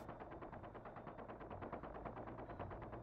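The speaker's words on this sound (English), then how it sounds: "I hear someone firing" Steady bursts of automatic gunfire from the video game Star Citizen, rapid evenly spaced shots running continuously at moderate distance, fairly faint, with no talk over them.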